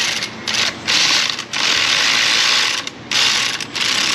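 Electric ratchet loosening the belt tensioner on a Subaru Outback 2.5, loud whirring bursts with short pauses between runs, close up with no talk.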